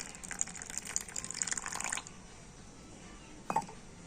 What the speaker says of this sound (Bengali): ঘিয়ের উপর আমি জলটা দিয়ে দিচ্ছি